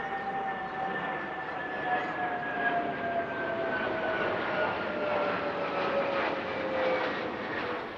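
An Airbus A330 MRTT multi-role tanker transport aircraft passes at an air show, a steady broad engine roar with a slowly falling whine held for the whole stretch, fairly distant and continuous with no talk.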